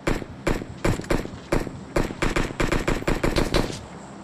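Rapid bursts of automatic gunfire in the PUBG Mobile video game, loud and close, firing in short volleys with brief gaps over about four seconds.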